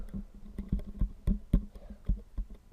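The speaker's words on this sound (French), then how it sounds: "là vous entendez du bruit, mais c'est parce que je suis en train de régler mon casque" A headset is adjusted, making soft tapping and clicking handling noises in an irregular rhythm. The sounds are close to the mic and fairly faint.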